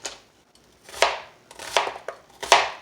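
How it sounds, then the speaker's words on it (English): A knife rough-chops food on a cutting board, with three or four sharp, close chops spaced unevenly and no talking. "I'm just going to do a rough chop on this"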